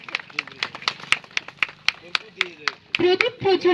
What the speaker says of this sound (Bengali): সকলে একটু জোরে করতালি।